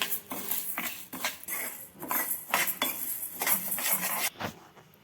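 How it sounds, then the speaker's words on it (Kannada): Urad dal dry roasting in a pan for palak chakli, stirred with a utensil that gives repeated scraping and clinking strokes against the metal in an uneven rhythm, close and fairly soft, with no voices. "ಈ ರೀತಿ ಕೆಂಪಂಗೆ ಉದ್ದಿನಬೇಳೆ ಹುರ್ಕೋಬೇಕು."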